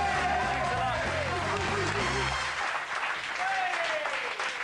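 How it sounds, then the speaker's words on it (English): Scripted studio-audience applause on a comedy talk show, clapping and cheering rising over a musical sting that cuts off partway, with voices and noise continuing underneath. "Thank you very much indeed for that scripted applause"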